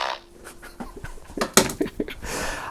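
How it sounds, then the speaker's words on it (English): A playful fart noise made by a person during washing up at home, a few short buzzy bursts, the loudest near the middle, close and fairly loud with no talking. "Any excuse to do the fart noise."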